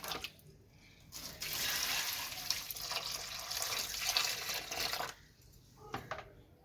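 Water poured onto a potted plant, a hissing splashing stream that begins after a second, runs steadily for about four seconds, then stops, with a few soft knocks afterward.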